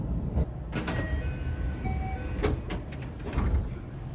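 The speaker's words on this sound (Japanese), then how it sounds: "何もなく扉が閉まります" Train sliding doors closing at a JR West station, a rumbling mechanical slide with several sharp clunks and thumps over a few seconds amid low station background noise.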